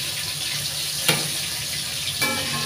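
Pangas fish fries crisp in hot oil, a steady close hiss of sizzling broken by two brief clinks of a utensil against the pan.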